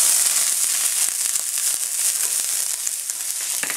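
Onions dropped into smoking-hot butter and oil, giving a loud, bright, steady sizzle with dense crackling and small pops, close up and continuous for the whole stretch, with no one speaking.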